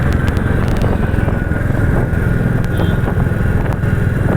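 A Royal Enfield Bullet 350 motorcycle runs under throttle while being ridden, its loud, continuous low engine thump mixed with heavy wind rush, with no pause for the whole stretch.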